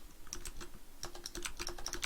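Keystrokes on a computer keyboard as a Ctrl+C copy shortcut is pressed, a quick scatter of close, crisp clicks and taps with no talking.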